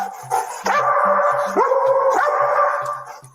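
A police cadaver dog near a white Nissan Sentra gives repeated close, loud barks and yelps, several with drawn-out howling whines between them, the barking running steadily throughout.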